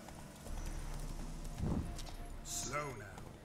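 Roach the horse's hooves clip-clopping at pace in The Witcher 3 game, a steady drumming of steps beneath a voice and a short whinny-like sound near the end.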